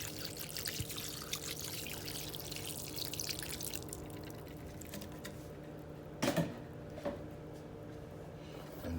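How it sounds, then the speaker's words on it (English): Sea moss rinsed at a kitchen sink: a continuous stream of pouring and trickling water runs throughout, thinning out partway, with two short louder splashes near the end. "Once you drain the water out, you want to rinse it one more time."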